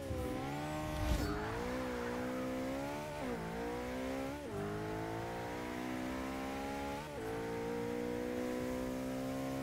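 A car launches and accelerates in the Forza 6 racing game, its engine revving loudly and rising in pitch through several gear changes, each shift marked by a brief dip before climbing again.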